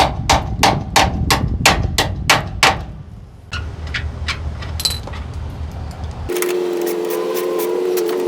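Sharp metal hammer taps knocking a stuck aluminum mudflap bracket loose, about eight quick evenly spaced strikes, then a few lighter scattered knocks, ending in a steady tonal hum.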